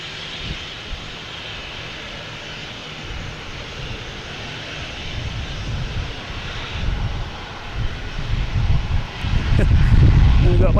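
An airliner building up engine roar on takeoff at Boston Logan Airport, a broad rumbling noise that swells steadily louder toward the end, mixed with wind buffeting on the microphone and some talk.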